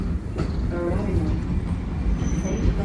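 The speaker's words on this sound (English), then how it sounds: "Oh, this train's out of service." A Toronto TTC subway train, out of service, rumbles past nearby through a station with a steady rolling roar, a brief metallic squeal rising near the end.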